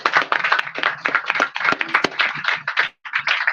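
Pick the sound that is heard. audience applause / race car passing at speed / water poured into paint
audience applause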